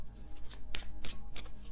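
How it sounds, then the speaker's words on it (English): A tarot card deck shuffled by hand close up, giving a quick series of crisp riffling and flicking bursts in under two seconds, with no voice. "I could shuffle this deck."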